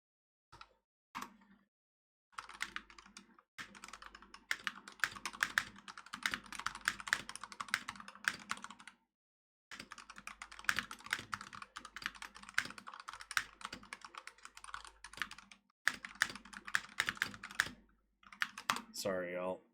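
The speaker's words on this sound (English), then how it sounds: "a lot of text or typing going back and forth" Rapid typing on a computer keyboard in bursts of clattering keystrokes with short pauses, close and fairly loud, ending with a brief burst of other noise.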